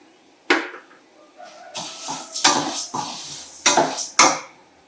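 Chana dal and moong dal roasting in a pan for idli podi, heard as a run of dry clattering bursts as the lentils are stirred and tossed, fairly close and with no voices.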